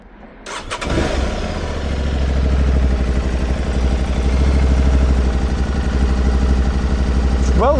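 Stock-exhaust engine of a 2024 Aprilia Tuareg 660 motorcycle starting with a brief crank, then settling into a steady, throbbing idle, close and moderately loud.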